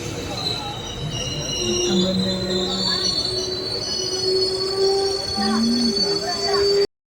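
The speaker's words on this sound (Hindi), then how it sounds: "अपनी ट्रेन का अराइवल लक्सर स्टेशन पे हो रहा है।" Doon Express passenger train pulling into Laksar Junction, heard from inside a general coach, with loud, sustained wheel squeal and brake screech over steady rumble and faint background voices.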